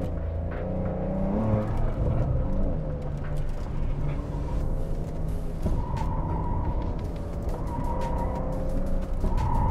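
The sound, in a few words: Porsche 911 Cabriolet driving a timed track lap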